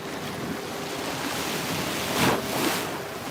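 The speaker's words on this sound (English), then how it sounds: "whoa, the waves are" Ocean waves surge and wash steadily, a loud broad roar swelling twice near the end, mixed with buffeting wind noise on the microphone from a boat at sea off Japan.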